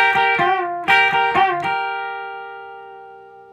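An electric guitar plays the closing part of a riff, a few quick bright strums followed by a final chord that rings out and fades slowly.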